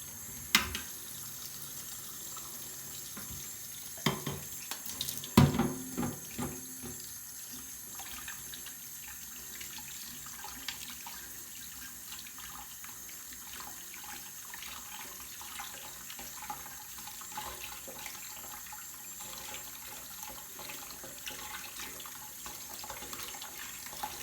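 Tap water runs steadily over flour dough in a sink, rinsing the starch out of it; a soft continuous stream with a few louder splashes and clatters near the start, then a low even trickle throughout, no talking.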